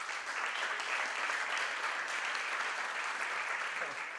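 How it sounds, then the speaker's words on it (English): Distant crowd applause for actor Anthony Daniels at Star Wars Celebration Europe II in Messe Essen, a broad, steady roar of many hands that stays level from start to finish, heard from far back in a large hall. "Please give a warm round of applause to Mr."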